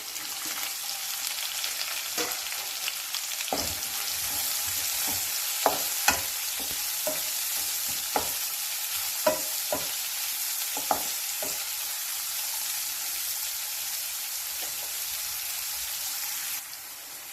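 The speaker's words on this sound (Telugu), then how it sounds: "ఇవి కాస్త వేగిన తర్వాత ఉల్లిపాయ పచ్చిమిరపకాయ ముక్కలు కూడా వేసేసి ఫ్రై చేసుకోవాలి." Onion and green chilli pieces frying with fenugreek leaves for a curry, a steady close sizzle running throughout, broken by scattered spoon scrapes and taps before tapering at the end; nobody speaks.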